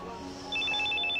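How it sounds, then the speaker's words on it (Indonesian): A telephone rings in a film scene, a faint electronic ringtone trilling in short repeated pulses over quiet room tone. "tiba-tiba Nigel menerima telepon yang mengharuskan mereka segera pergi karena Miranda memajukan acaranya"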